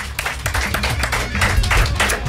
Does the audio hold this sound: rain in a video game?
no